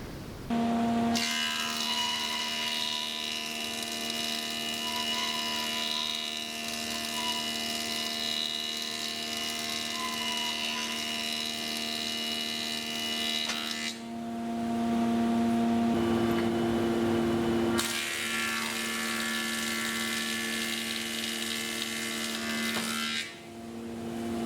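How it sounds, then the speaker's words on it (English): Planer/thicknesser with a DIY dust collection hood running steadily, a loud sustained whine and roar that eases briefly as the board clears, then rises again for a second pass. "I'll start up the machine, and we'll see will that work"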